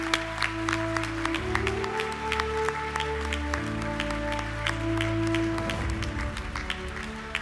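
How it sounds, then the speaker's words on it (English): An audience at the Florida Inventors Hall of Fame ceremony applauds the new inductees, with scattered distinct claps over sustained tonal music that shifts through held chords. "please join me in one more round of applause for all of our new"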